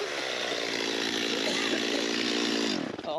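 A chainsaw with a dull chain, badly in need of sharpening, chews steadily through a cedar log for a boat shed build, its loud, close engine whine holding constant before dropping off at the end.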